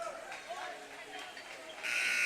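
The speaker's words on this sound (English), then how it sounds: "There's the buzzer." Game-end buzzer at a girls' high school basketball game, Mountain Pine vs. Bismarck, sounding loud and sustained in the final half-second after a commentator's voice.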